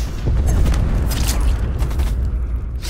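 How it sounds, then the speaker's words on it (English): An incoming missile strike in Call of Duty Black Ops Cold War lands with a deep, loud rumbling boom that rolls on continuously, layered with crackling debris and mechanical rattles. "Missile inbound."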